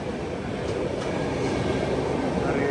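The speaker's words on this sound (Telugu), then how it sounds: "ఏం ట్రైన్? హంసఫర్" A Humsafar Express train passes close by, a loud continuous rumble of rolling wagons with faint rail squeal over the whole short stretch.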